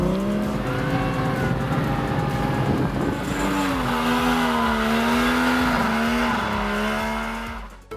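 A Tomcar TX all-terrain vehicle with a 74-kilowatt engine revs loudly and steadily, its pitch rising and wavering for several seconds before fading off near the end.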